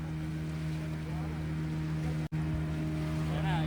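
A wooden boat's engine drones steadily on open water, a constant low hum with wind and water noise around it, unbroken except for a momentary dropout.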